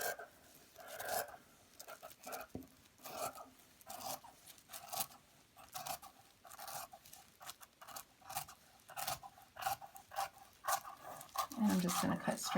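Scissors cut through loose rayon fabric with repeated close snips and rustles, while a dog pants and shuffles nearby and a person talks over it at times.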